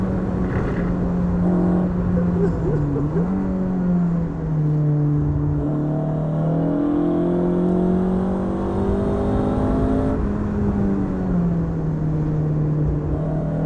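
An Ariel Atom accelerates hard uphill on a race track, its engine note a loud, continuous drone that rises and wavers with the throttle, close and steady throughout.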